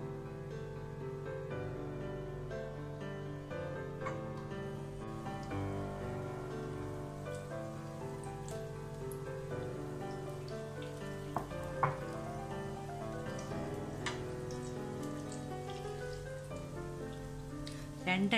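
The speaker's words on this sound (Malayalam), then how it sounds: "നമുക്ക് ഓരോ പഴ പീസ് ഓരോന്നായിട്ട് അതിൽ മുക്കി എണ്ണയിലിട്ട് കൊടുക്കാം." Battered banana pieces frying in hot oil sizzle steadily and softly, a continuous crackling hiss heard close but faint over a quiet tonal background, with a couple of brief louder spits.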